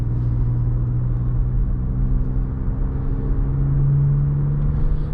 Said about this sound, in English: Getting on the gas, yeah, this thing has such smooth acceleration